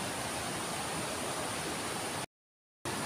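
A strong river rushes over pebbles in a steady, dense broadband roar, loud and close with no voices, cutting briefly to silence before the flow resumes.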